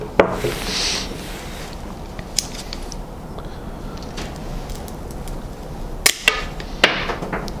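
Verano pruning shears snip through branches, giving a few sharp, isolated clicks and cuts over a quiet outdoor background, with a pair of louder snaps near the end.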